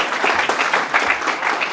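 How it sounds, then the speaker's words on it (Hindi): Applause from an audience at a presentation talk, brisk dense clapping of a moderate crowd, steady and fairly close for a couple of seconds. "तालियां।"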